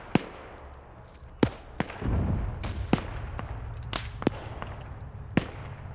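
Repeated sharp booms from a mortar in an online shooter game, spaced irregularly over a low rumbling battlefield background, each report loud and punchy with some distant gunfire between.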